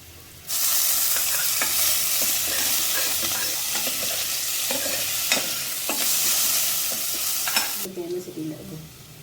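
Curry leaves hit hot oil with a sudden loud, dense hiss and crackle that holds steady for several seconds, then cuts off sharply, leaving faint bubbling.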